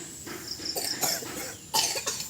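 A person coughs several times in short bursts in a quiet indoor setting, with faint insect-like chirping in the background.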